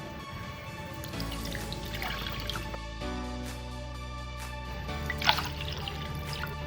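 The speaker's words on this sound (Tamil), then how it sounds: "வச்சுட்டு 3 டம்ளர் தண்ணியை ஊற்றிக்கணும்." Water is poured into a cooking pot on the stove, about three tumblers' worth for a millet porridge drink, producing a continuous close splashing and dripping with a brief louder splash near the end, without talking.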